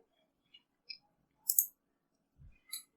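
A mouse clicks on a Windows 10 computer: a handful of sparse, soft, quiet clicks spaced irregularly across a few seconds, with silence between them and no talk.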